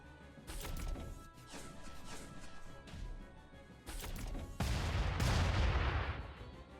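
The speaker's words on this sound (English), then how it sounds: "So he's going to fire the Adler." Adler weapon fire from the Front Mission 2 video game, with a series of loud crashing gunfire bursts separated by short gaps, the heaviest and longest volley near the end.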